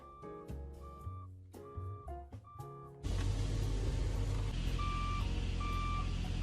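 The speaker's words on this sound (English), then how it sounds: "My dad thought it would be funny to put one of the alarm things that go off whenever a big truck is backing up, and he attached it to my brakes." A truck-style reversing alarm rigged to a car's brakes gives several sharp repeating beeps in short bursts, then a louder stretch where the beeping continues over heavier road and engine noise.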